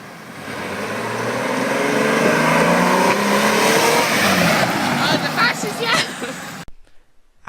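A car driven by Tanner pulls away from a starting point toward a 0.02 mile marker, a steady engine roar building and holding for several seconds before cutting off abruptly.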